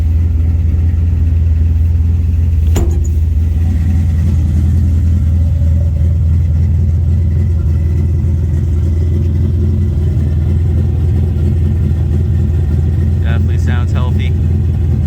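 A big 383 V8 stroker engine in a 1970 Chevrolet C10 pickup rumbles steadily close by with a brief sharp rev near the start, a few faint clicks near the end.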